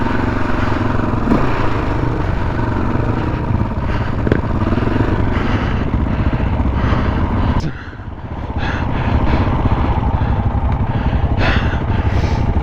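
A KTM 450 dirt bike ridden off-road, its engine buzzing loud and close throughout with rattling clatter, dipping briefly as the throttle eases before revving back up.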